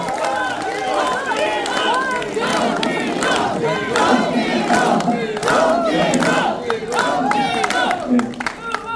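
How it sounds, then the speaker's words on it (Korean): An audience at a citizens' talk concert in Gwangju cheers, shouts and applauds. The crowd noise is loud, dense and sustained throughout, with many voices and clapping blended together. "뜨거운 박수 주십시오."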